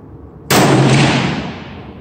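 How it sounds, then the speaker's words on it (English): A single loud, close 6.5 rifle shot from a TC Compass fitted with a LimbSaver barrel dampener cracks sharply out of near silence, then rings out into a fading echo. "I'm gonna be taking the first shot with the stabilizer at the target, upper right target."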